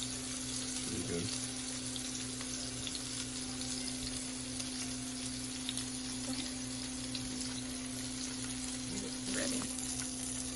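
Pork chops sear in a pan with a steady, faint, continuous sizzle and a constant background hum.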